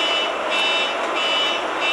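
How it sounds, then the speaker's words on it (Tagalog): An alarm goes off during a live stream, a loud, steady electronic tone with a droning, buzzing edge that continues unbroken throughout, with no voices heard. "naka-live si Patrick tapos tunog yung alarm niya"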